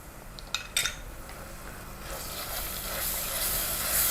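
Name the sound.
garlic ginger paste frying with onions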